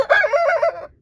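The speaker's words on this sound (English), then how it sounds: "No, that's fire that's crowing." A rooster named Fire crowing once, a close, loud, wavering call held for almost a second before cutting off into quiet.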